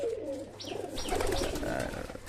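Pigeons coo together on a pigeon farm, mostly adult birds with a few young ones, making a dense, warbling chorus of overlapping low calls close by with no talking.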